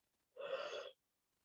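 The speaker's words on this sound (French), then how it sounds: "Baille autant que tu en as besoin." A single yawn during a children's yoga stretch, one breathy, voiced exhale lasting about half a second, close and moderately loud, alone in an otherwise quiet room.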